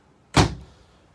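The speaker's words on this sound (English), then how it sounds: "Bathroom here has a nice solid wood door to separate it off. It's a pocket sliding door, which is really nice." A solid wood pocket sliding bathroom door in a 2020 Forest River R-Pod 192 travel trailer slides shut with one sharp, close thud that fades quickly into quiet, with no voices.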